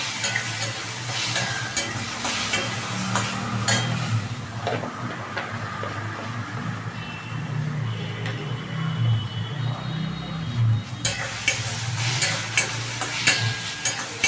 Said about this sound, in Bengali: এটাকে আমি তেলে নাড়বো